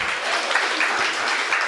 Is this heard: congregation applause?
yes